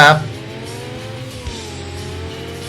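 Ford GT engine revving in the Ford Racing 2 video game, a steady droning engine tone with shifting pitch after a brief loud burst at the start, running continuously near and moderately loud.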